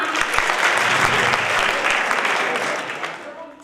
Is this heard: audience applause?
yes